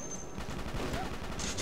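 Dense gunfire rattles in the Microvolts shooter game, a rapid continuous fusillade of shots heard at moderate distance and fairly quiet.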